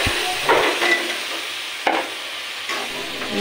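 Vegetable curry with dal being stirred and sautéed in a pan, a close soft sizzle with a few sharp spoon scrapes and knocks against the pot, no talk.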